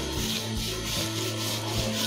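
Chocolate ladoo mixture of chocolate, coconut and raisins being stirred in a pan, giving a continuous scraping, rubbing sound at moderate level with no talk.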